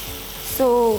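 Paneer fries and gets stirred in a spiced pan for hot garlic paneer, a steady close sizzle with scraping stir sounds, and a short voice comes in over it near the end.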